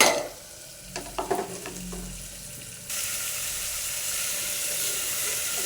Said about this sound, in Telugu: ఇప్పుడు ఈ వెజిటేబుల్స్ అన్నీ వేసుకుందామండి.